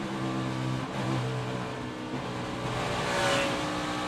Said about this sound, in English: You hear right there, the engine starts sputtering and missing.